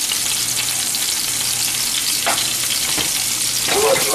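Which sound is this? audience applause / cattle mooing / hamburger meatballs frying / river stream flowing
hamburger meatballs frying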